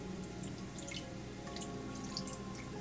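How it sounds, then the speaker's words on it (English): Water is poured into a saucepan holding Filipino longanisa sausages, a steady close trickle and splash with scattered drips, running continuously on its own without any talking. "I'm going to add some water."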